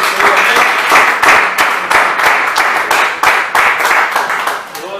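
A church congregation claps together in a steady, rhythmic beat, loud and close, with voices mixed in underneath.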